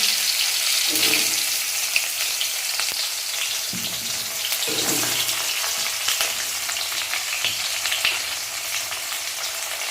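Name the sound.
pointed gourd and teasel gourd frying in oil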